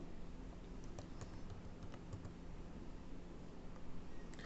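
Faint, scattered keystrokes as a name is typed on a computer keyboard while building a table in Microsoft Word, heard under a steady background hiss.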